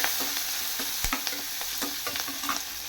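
Onion and coriander sauté in a hot pan for idli upma, a bright continuous sizzle broken by quick scraping stirs and light clanks of the spatula, close and with no voices.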